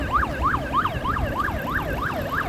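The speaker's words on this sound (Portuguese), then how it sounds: "Que é aquilo ali, uma sirene, será que é uma ambulância?" An ambulance siren wails along the beach road at Boa Viagem in Recife, rising and falling in a steady repeating whoop at moderate distance over a low traffic rumble, with no talk.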